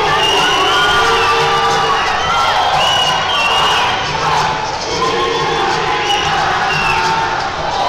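Fans at a Brazilian STR Fight event cheer and shout in a loud, sustained crowd roar that swells and dips, with whoops and individual yells mixed in.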